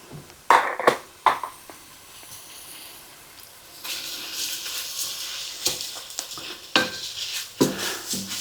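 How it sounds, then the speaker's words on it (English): Rinsed basmati rice sautés in oil with onions, a faint hiss under sharp clinks and scrapes of a utensil against the pot, with the sizzle rising midway and stirring knocks recurring. "I'm going to let this saute for about a minute here with the rice and the oil and onions."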